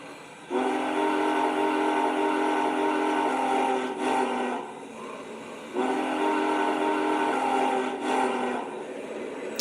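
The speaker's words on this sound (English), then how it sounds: "So this whistle, they say, is recorded directly from the actual 4014, which is cool." A Lionel Big Boy 4014 model train plays its steam whistle, recorded from the real locomotive: two long, loud, chord-like blasts, each several seconds, close and clear with a brief gap between them.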